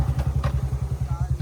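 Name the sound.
motorcycle engine on a rough forest path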